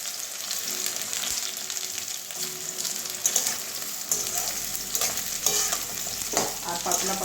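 Thinly sliced pointed gourd fries in a pan and is stirred and turned constantly, a steady close sizzle with scraping and stirring clatter throughout, no voices.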